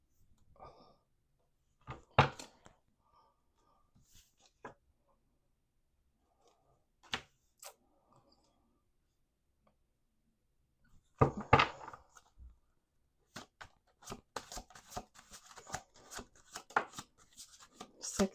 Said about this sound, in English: 2 more shuffles here.